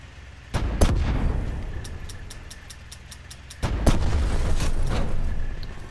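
Two heavy booming blasts from a tank being destroyed in Call of Duty Black Ops 4, each followed by a trail of rapid crackling pops and debris, loud and close with no talk.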